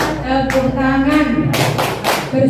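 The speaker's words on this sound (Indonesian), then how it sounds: "Tepuk tangan" Hands clap in short bursts alongside a group singing a greeting song during a classroom activity, the rhythmic claps sitting under the singing voices.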